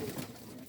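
Salara teddy pigeon in a small breeder loft, cooing softly and faintly in a brief low murmur.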